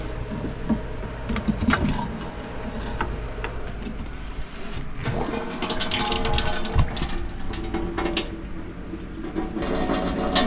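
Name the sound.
raw seawater being emptied from watermaker hose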